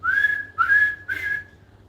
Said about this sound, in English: held a whistle in his mouth like this and was blowing whistle